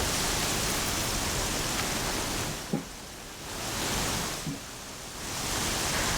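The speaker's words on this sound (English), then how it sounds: "Raining like it's trying to wash everything away." Heavy rain in the video game Horizon Zero Dawn makes a broad, steady roar that swells and dips in slow waves, with a couple of faint low thumps mixed in.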